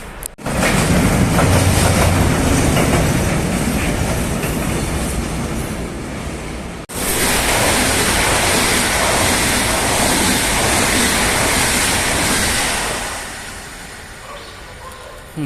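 Steady loud rumble and rattle of a train carriage in motion in Prague, Czech Republic, with broadband rail noise and a brief dropout partway through, no talking.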